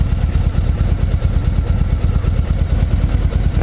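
Triumph Triple motorcycle engine idling close by, a loud, rhythmic, throbbing putter with steady pulses throughout and no voices.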